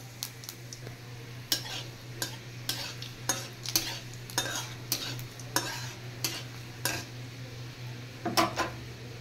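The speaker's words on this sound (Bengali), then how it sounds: "আমি এবার কটা শুকনো লঙ্কা আর একটু পাঁচফোড়ন দিয়ে দিচ্ছি" Dried red chillies and panch phoron frying in oil for tok dal, with regular sharp spoon clicks against the pan over a steady low sizzle and hum, close and fairly quiet.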